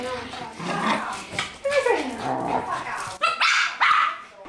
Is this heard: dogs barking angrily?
yes